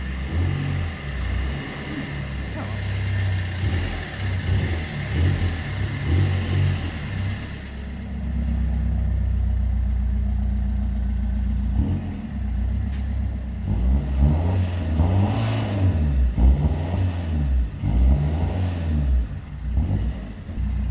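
A Fiat Fiorino van engine with a new exhaust revs repeatedly with a deep, bassy exhaust rumble, rising and falling in bursts, close and loud throughout.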